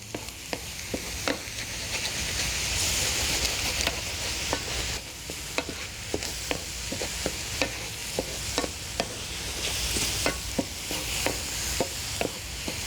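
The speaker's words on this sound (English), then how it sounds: "We can pop those yolks, give this a stir, and it won't be long before those eggs are scrambled." Eggs fry in a pan for a no-rice fried rice, their yolks broken and stirred into a scramble. A steady loud sizzle carries throughout, punctuated by frequent sharp spatula scrapes and taps at a quick, irregular pace, close by, with no speech.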